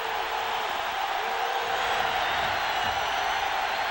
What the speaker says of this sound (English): the crowd really got into it, making a lot of noise